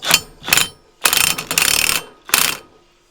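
A ratchet wrench tightens a bolt on a New Holland 268 square baler: several loud, close bursts of rapid clicking, separated by short pauses, with no talk.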